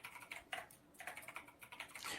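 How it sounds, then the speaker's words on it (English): Someone types steadily on a computer keyboard, close and fairly quiet, the rapid clicking of keys continuing throughout with no talking. "while someone else is typing"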